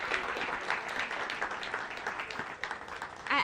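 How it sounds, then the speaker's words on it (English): An audience gives another round of applause to panel speakers at a World Food Day celebration, soft, fairly distant clapping from a modest crowd lasting a few seconds, fading slightly near the end. "Another round of applause for them, please."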